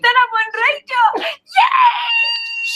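A person screams several times in a row on a radio broadcast at a tech hackathon event, giving loud, high, wavering shrieks with brief gaps between them, very close and dominant.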